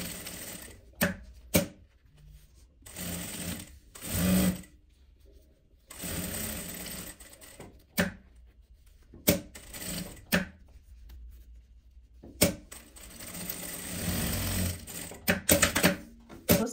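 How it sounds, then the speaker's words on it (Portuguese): A sewing machine stitches back over an earlier seam on a small fabric phone holder, running in short bursts of rapid mechanical clatter separated by pauses, fairly close and with no talking. "Aqui eu costuro em cima de onde eu costurei a primeira costura"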